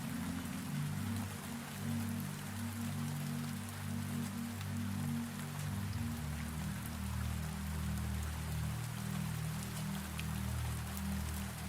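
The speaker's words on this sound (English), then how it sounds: "Rain continues to move across the roof." Rain falls on a glass greenhouse roof, a soft, steady patter of many drops spreading evenly under a low, constant hum, with no voices.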